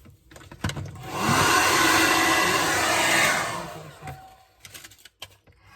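An ionic hair dryer whirs loudly on high for about three seconds, ramping up and cutting off, with faint clicks and handling noise before and after.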